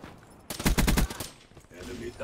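ICR-1 rifle fire in Call of Duty Black Ops 3: a loud, rapid burst of about five shots, followed by quieter game sounds.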